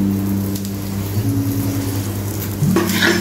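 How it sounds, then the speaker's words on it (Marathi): Moong dal puran poli roasting on a hot pan gives off a steady close sizzle and crackle that runs throughout, with a brief louder burst near the end. "दुसरी बाजू पण आपण व्यवस्थित अशी भाजून घेऊया"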